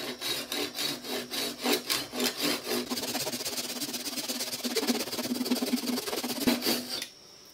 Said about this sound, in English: I'll use this clamp as my guide for the back of the saw